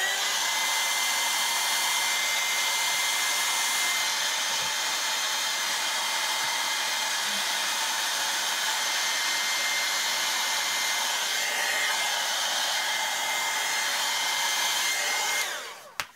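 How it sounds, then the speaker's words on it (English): A hair dryer blows steadily on a Victorian-style mixed media art box, a loud continuous whooshing whir held close for about fifteen seconds before it clicks off abruptly. "what I'm gonna do is I'm gonna dry that now quickly"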